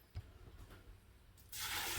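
Water pours into a pressure cooker holding dry beans, a soft splashing stream that swells and grows louder toward the end after a few faint knocks and clinks.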